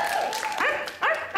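A voice actor imitates a small cartoon dog with a run of short, high yips and barks, several quick bursts in close succession, loud and near, with no other talk.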